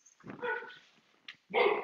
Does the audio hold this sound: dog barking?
yes